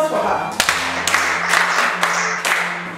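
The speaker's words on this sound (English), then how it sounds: "Correct, and applause for her." Students in a classroom clap for a classmate, with several sharp, separate claps spaced across a few seconds over background voices and a low hum.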